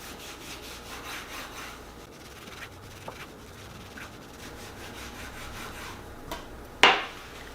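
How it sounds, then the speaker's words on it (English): A knife slicing through rolled pizza pinwheels in a home kitchen, a soft rasping scrape repeating steadily and up close, ending in a sharper click near the end. "And now I'm just gonna cut them into slices."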